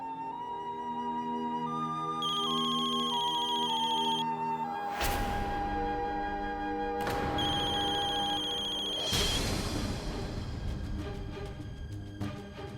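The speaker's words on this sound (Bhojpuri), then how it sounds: "मिथिलेश जी, हम रवा के फोन कैले रहने की।" A telephone rings with a bright electronic ringtone, sounding in repeated tonal bursts that stay loud and steady throughout, with no talking over it.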